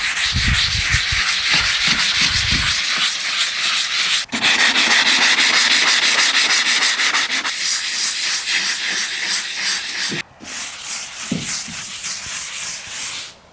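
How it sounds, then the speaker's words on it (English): Steady scratchy sanding on wood, continuous back-and-forth rubbing with brief pauses, close and fairly loud, no voices. "So let's get to sanding."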